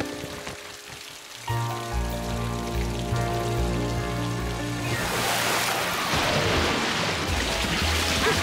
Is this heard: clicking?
no